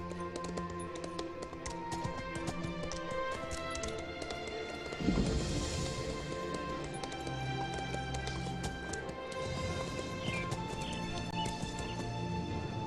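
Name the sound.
horse hooves clip-clopping in Elder Scrolls Online video game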